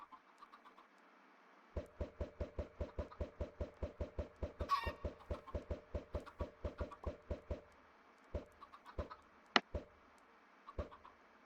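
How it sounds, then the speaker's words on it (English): A chicken in a survival video game clucks in a fast, steady run of evenly spaced clucks, then a few scattered ones, close and clear with no talk. "Alright, we got us a chicken."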